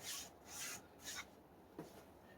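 Soft rhythmic brushing strokes of finish being brushed onto a Telecaster guitar body, three quick swishes then a slower one, close and quiet with no talking.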